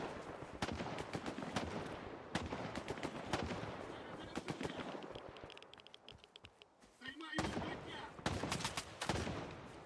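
Bursts of rapid automatic gunfire in STALKER 2 crackle in irregular volleys with single sharp shots between them, fairly loud, fading briefly before a final heavy burst.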